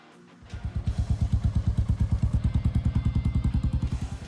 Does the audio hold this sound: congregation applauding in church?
no